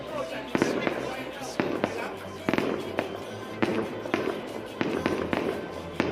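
Repeated booming fireworks bursts at a Lunar New Year's Eve celebration in highland Hoàng Su Phì, Hà Giang, Vietnam, thudding roughly every second with crackling tails, while people chat close by.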